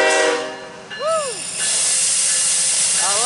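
A CSX freight train heads southbound past a railfan, its horn sounding in rising, falling blasts over the hiss and rumble of the passing cars, close and loud.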